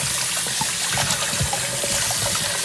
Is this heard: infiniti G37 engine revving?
no